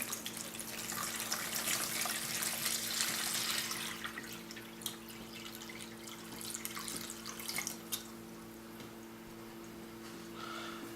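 pH-stabilized water pours and splashes into a container of hydroponic growing media, a steady trickle that fades to faint drips against a low background hum.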